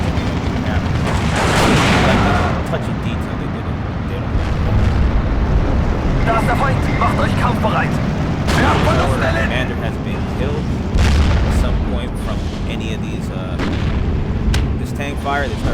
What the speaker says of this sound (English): Off-screen artillery strike, tons of tanks.